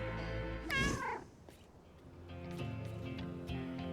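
A cat in the game I Am Machine lets out one loud, wavering meow near the start, then background game music and small clicks continue at a lower level.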